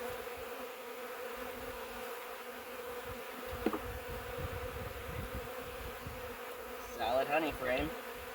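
Honey bees drone in a constant soft buzz during an early-spring hive inspection, with a few louder passes from individual bees flying close near the end.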